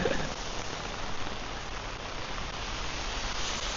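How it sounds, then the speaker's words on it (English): Steady rain pours down during a morning walk in Kathu, Phuket, Thailand, a dense unbroken hiss of drops hitting surfaces, loud and close with no voices over it. "It's raining."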